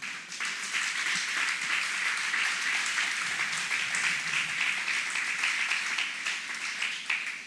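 Worshippers in a church service clap together in prolonged, lively applause, a dense wash of hands with some individual claps standing out, steady and fairly loud throughout.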